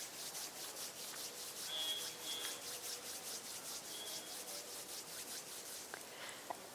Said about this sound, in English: bring the palms of your hands together at chest level and rub the palms of your hands gently against each other.